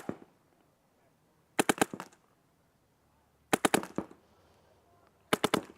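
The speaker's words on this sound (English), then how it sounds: "rolling out and taking a couple shots" Paintball gun fired in three quick bursts of three to four sharp, loud pops each, evenly spaced with quiet gaps between.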